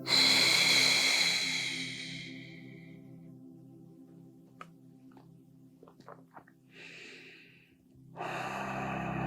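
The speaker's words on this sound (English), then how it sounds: "So exhaling as you lift, inhaling when you get there," During a slow yoga lift, a person takes long, quiet breaths close to the mic. A strong, airy exhale opens, fades into soft breathing with small clicks, and a fresh inhalation swells near the end.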